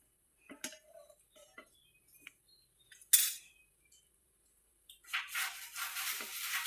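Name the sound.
metal spatula flipping a dosa on a pan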